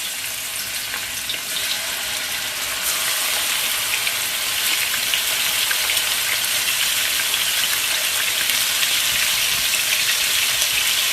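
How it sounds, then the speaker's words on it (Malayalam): Chicken marinated in masala, salt and lime juice fries in hot oil for a chicken biryani, giving a steady, dense sizzle that grows slightly louder and runs unbroken with no voices. "ഇനി ഇതിനെ ഞാനൊന്ന് വറുത്തെടുക്കാൻ പോവാം"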